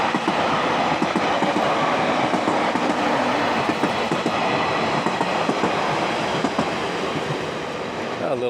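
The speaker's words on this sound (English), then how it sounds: "Oh no, here's the train. Here comes the train." A train in Fukuoka, Japan rumbles past close by, loud and steady, with rhythmic clickety-clack of wheels over the rails throughout.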